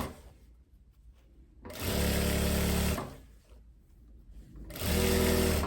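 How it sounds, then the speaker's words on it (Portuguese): Domestic sewing machine stitching the side seam of a long loose dress, two steady whirring bursts of rapid needle chatter about a second each, separated by quiet pauses, close and loud. "E faço a costura desse ladinho."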